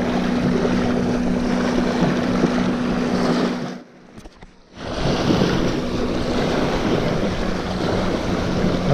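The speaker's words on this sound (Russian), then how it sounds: "Волна, блин, сейчас ноги все зальет." Ocean surf rolls and washes continuously onto the shore at sunset during bank fishing. The noise is loud, broadband and wind-blown, and it briefly drops away in the middle before surging back.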